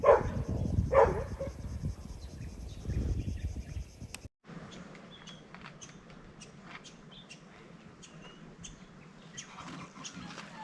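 Dogs bark at a hillside campsite where hikers and campers meet: a couple of sharp, loud barks near the start, then the scene settles into quiet outdoor ambience with faint insect or bird sounds.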